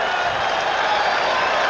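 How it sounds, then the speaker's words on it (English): A large baseball crowd at Shea Stadium, during a Dodgers at Mets game in 1990, roars and applauds in a steady, dense wash of cheering. "The crowd goes wild here at Shea."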